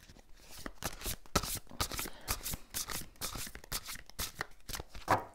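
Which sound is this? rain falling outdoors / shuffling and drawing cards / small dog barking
shuffling and drawing cards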